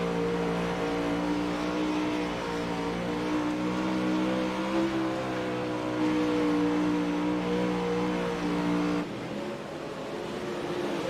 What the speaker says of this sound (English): So we're riding with Justin Sick as he tries to chase down Rowdy.